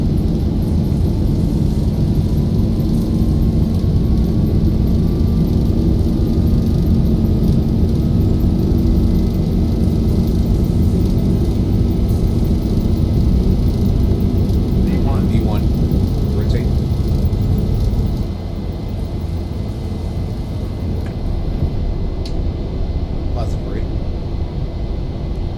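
Boeing 737-800 engines at takeoff power in a flight simulator give a loud, unbroken roar that drops a notch in level partway through, with a voice faintly over it at times.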